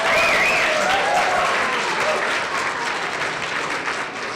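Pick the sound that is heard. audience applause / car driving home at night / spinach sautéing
audience applause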